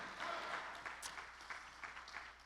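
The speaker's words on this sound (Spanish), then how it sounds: "Dele palmas al Señor" Church congregation clapping during a Spanish-language sermon, a moderate wash of many hands applauding together in a reverberant room, steady and slightly fading toward the end, with no talk over it.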